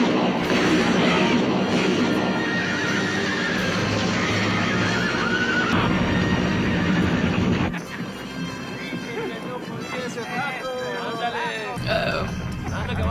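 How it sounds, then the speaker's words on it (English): A big herd of horses comes up from the river, neighing loudly over galloping hooves in a dense, continuous din, with people talking throughout. "Bunch of horses coming this way from the river, Captain."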